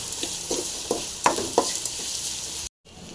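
Onions and beetroot frying in a pan while being stirred, with a steady bright sizzle and several soft scraping strokes of the spoon, close up; it cuts off briefly near the end.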